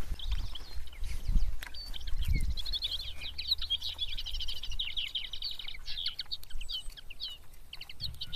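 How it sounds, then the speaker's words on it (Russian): A titmouse sings close by in a series of rapid, high, bright chirps and trills that run almost without pause, with a few low thumps and some soft outdoor rustling early on. "Синичка."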